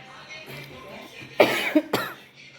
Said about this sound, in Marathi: खोकला इतका लागला आहे